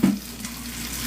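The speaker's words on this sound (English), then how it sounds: "now we're gonna put our cabbage in the frying pan." Cabbage dropped into a hot frying pan for low-carb cabbage bread, an abrupt loud sizzle at the start that settles into a steady close frying hiss.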